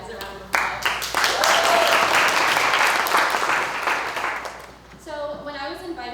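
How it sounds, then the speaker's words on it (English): An audience at a keynote address claps in a round of applause that swells quickly and stays full before thinning out, with voices and cheers mixed in near the end. "So I just want to give you guys a round of applause."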